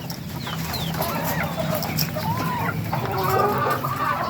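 A flock of 16-week-old ready-to-lay pullet chickens clucks and chirps nervously up close, with overlapping calls over steady background noise and faint talk.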